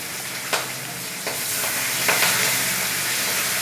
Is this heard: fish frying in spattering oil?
yes